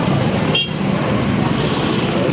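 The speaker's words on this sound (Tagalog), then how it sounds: "traffic na." Road traffic near the Malabon fishport makes a steady wash of passing vehicles, with a brief horn toot early on. It is moderately loud and continuous, with no clear talk.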